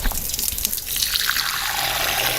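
Water from a tap runs steadily and loudly during ablution face washing, with splashing in the first moment, then a continuous close gush with no voices.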